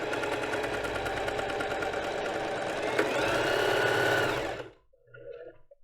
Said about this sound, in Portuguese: Agora vamos costurar aqui. Vou diminuir o zigue-zague.